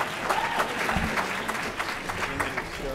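An audience at a conference panel on safe starches and ancestral diets claps together in a steady burst of applause for about three seconds, with a voice speaking briefly underneath.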